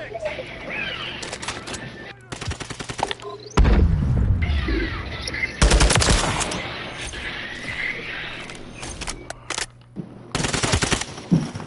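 Gunfire in Call of Duty Modern Warfare 3 hardcore multiplayer: repeated rapid automatic bursts with sharp booms, loud and close, separated by short gaps, with players talking over parts of the fight.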